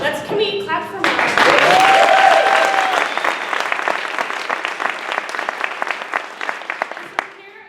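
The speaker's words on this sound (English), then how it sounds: "Can we clap for Mara?" Audience applause at a graduation ceremony for a leadership class, a full burst of clapping that swells quickly and holds steady before thinning out, with a voice speaking over the start and a few cheers mixed in.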